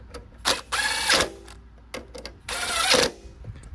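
A variable-trigger power driver runs in two separate bursts, each about half a second, as it tightens fasteners on a TroyBilt mower that was left in a field, with brief clicks and handling knocks between the bursts.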